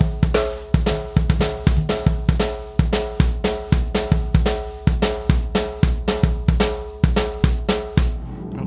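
A drum kit plays a groove of bass drum and snare, a fast driving pattern of punchy kicks and sharp snare hits repeating evenly, loud and close, with no talking.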